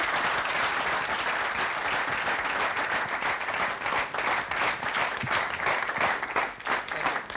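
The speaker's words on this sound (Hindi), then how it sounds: "तालियां वो सब कुछ कह रही हैं, आपके रिकॉर्ड को पुख्ता कर रही हैं।" Studio audience on a television show applauding a memory record feat, dense continuous clapping from many people, steady and full throughout with slight swells.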